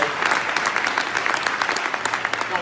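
Audience applause at a political speech event in Québec, a steady wash of many hands clapping throughout, fairly loud and sustained without a clear break.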